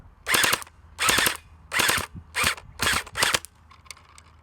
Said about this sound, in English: So magazine in, turn it to auto, and let's fire.